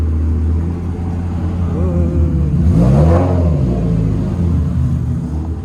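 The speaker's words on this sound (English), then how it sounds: "and I'll show you what we have going on as he moves Andy's Ferrari." A Ferrari 328 GTS sports car's engine rumbles and revs steadily while the car is moved around inside a workshop, swelling briefly in the middle of the clip before settling back to a low, continuous drone.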